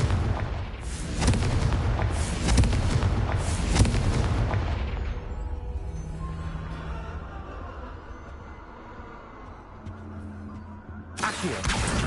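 Fiery Confringo spell blasts from the Hogwarts Legacy video game go off as a quick series of heavy booms and crackling bursts, then trail off into a low rumble before one final burst.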